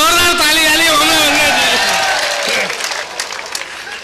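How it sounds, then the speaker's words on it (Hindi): An audience at a 2014 mushaira poetry show in Patiyali claps loudly beneath a man's raised, drawn-out voice, the applause thinning out after a few seconds. "अरे एक बार जोरदार ताली वाली"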